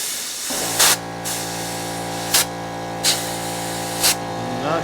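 Compressed air from an air compressor nozzle blows through a varnish-clogged Honda CB550 carburetor, giving four short, sharp hissing blasts spaced over a steady background hum, close and fairly loud.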